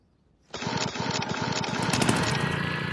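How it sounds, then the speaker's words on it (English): A lawn mower's pull cord is yanked and the engine fires at once, then runs on at a loud, steady, rattling idle. The start is abrupt after near silence. "to start the mower, you grab this pull cord like so and give it a nice hard yank"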